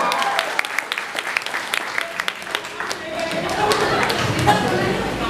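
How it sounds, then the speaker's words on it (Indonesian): Scattered clapping from a student audience at a seminar in Jambi on the dangers of radicalism and terrorism, uneven sharp claps under crowd chatter and voices, swelling slightly toward the end. "Tepuk tangan dulu."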